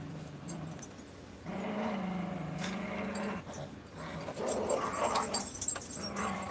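Two small dogs play in the background of a room, giving off soft growls and whimpering yips that rise and fall over several seconds, faint and somewhat distant, with no talk over them.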